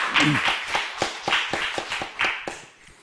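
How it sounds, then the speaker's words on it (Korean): Scattered claps from a church congregation during a Sunday afternoon worship service, a dozen or so distinct sharp hits spread unevenly across a few seconds, fairly close, with a brief voice near the start. "우리 하나님께 우리 큰 박수 영광 돌리겠습니다"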